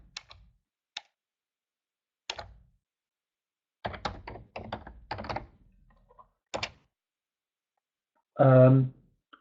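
Computer keyboard typed on during a business-modeling webinar: a few sparse, separate key clicks spread across the stretch, with some muffled voice-like sounds in the middle and a short buzzy burst near the end.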